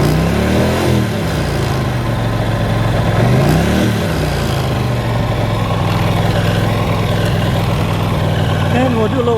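A 1983 Honda CX 650 Turbo motorcycle engine idles loudly and steadily after start-up, a constant close rumble with slight pitch swells as it settles, while someone talks over it.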